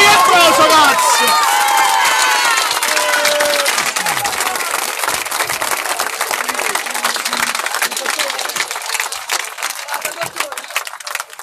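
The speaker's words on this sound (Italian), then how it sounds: "facciamo un applauso a questa ragazza, l'abbiamo fatto, ma facciamo un applauso" A crowd at an outdoor political gathering in Mondragone claps and cheers loudly, a thick, continuous roar of hands and voices with shouted calls early on, gradually easing slightly toward the end.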